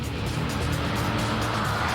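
Race car from Gran Turismo 4 driving on a track, a loud continuous engine roar with tire noise throughout, no talking.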